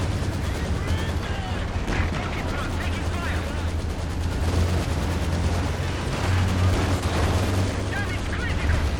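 A Katyusha rocket artillery barrage in a strategy video game, with a dense, rumbling stream of launches and blasts rolling on continuously under a commentator's voice.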